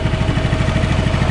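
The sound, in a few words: Honda Vario scooter engine idling after carburetor service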